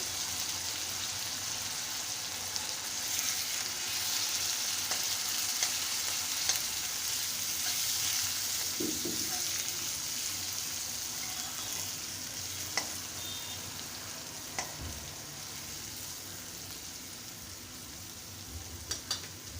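Turmeric and a spoon of red chili powder frying in a pan for a dry spring-onion stir-fry, a soft steady sizzle with a few stirring knocks and scrapes, fairly faint throughout.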